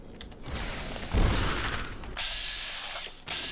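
A flashbang grenade goes off in Fallout: New Vegas, a loud low-heavy blast that rings out into a sustained high hiss and tinny ringing, cut with brief gunfire-like bursts.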